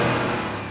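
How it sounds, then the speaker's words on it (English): Revving engine sound for Tenya Ida's engine quirk, a steady loud motor roar held for under a second with no talking. "Tenya Ida with his engine quirk,"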